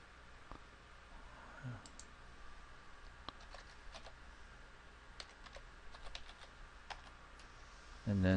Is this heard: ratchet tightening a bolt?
no